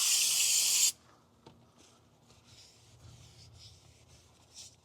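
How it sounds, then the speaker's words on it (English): A loud hiss of brake cleaner spray on a Toyota FJ Cruiser front wheel hub, followed by quiet, intermittent rubbing and scrubbing strokes against the metal surface, close and low. "this will be your final scrub with your brake cleaner"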